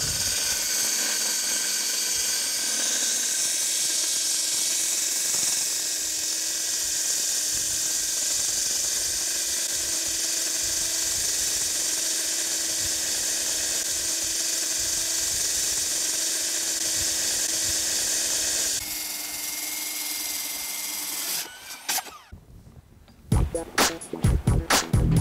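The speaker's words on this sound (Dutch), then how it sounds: "het boren van gaten in bijvoorbeeld betonnen leidingen" A power drill grinds loudly and steadily into concrete pipes at a renovation project for about twenty seconds, then winds down and stops, followed by a few sharp clunks.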